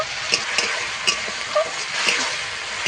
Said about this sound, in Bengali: এবার টমেটো বাটাটা দিয়ে দেবো সম্পূর্ণ মশলা ভালো করে কষিয়ে নেব